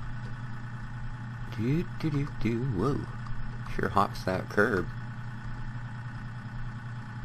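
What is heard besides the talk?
tractor engine running in a farming video game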